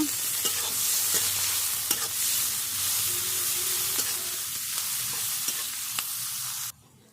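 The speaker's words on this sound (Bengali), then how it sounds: "এবার আমি 2 মিনিট ভেজে নেব" Chopped onion and a few green chillies frying in hot oil, a loud steady sizzle with occasional spatula clicks, close up, cutting off abruptly near the end.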